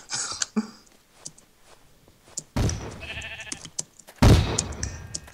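Sheep bleating in the video game Sheep Quest, a few short cartoonish bleats among throat-clearing and cough-like game noises, with loud abrupt bursts near the middle and end.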